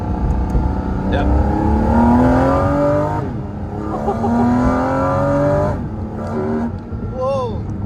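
Porsche GT4 RS engine accelerating at light throttle, a loud rising harmonic howl that climbs twice with a shift between, heard from inside the car with excited voices talking over it.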